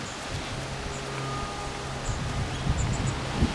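Wind sweeping dust off farmland during a dust storm, a steady rushing, rustling noise heard outdoors with faint scattered crackles and no voices.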